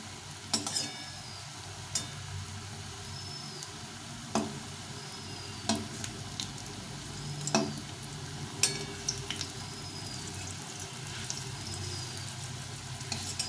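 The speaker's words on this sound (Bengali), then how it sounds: "নেড়ে চেড়ে সবগুলোকে ভেজে নিতে হবে" Green banana kofta balls fry in hot oil with a steady close sizzle. A spatula clinks against the pan now and then as they are turned.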